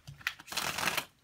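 Tarot cards being shuffled by hand, a quick riffling burst followed by a longer, denser run of papery flutters, close and fairly soft with no talking.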